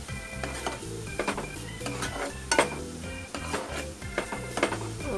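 Dried prawns (jawala) roasting in a pan, a soft crackling sizzle with scraping stirs and clinks of a utensil against the pan, close and fairly quiet.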